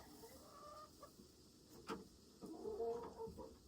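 Chickens cluck in a coop on a snowy homestead morning, giving scattered short calls with a brief louder burst near the middle and a busier cluster toward the end, all fairly faint and without talk.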